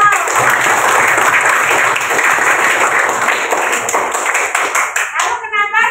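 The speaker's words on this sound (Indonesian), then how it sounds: "Tepuk tangan buat Mas Cinto." Loud, sustained applause from a primary-school maths class for a pupil, a crowd of hands clapping steadily before a voice cuts in at the very end.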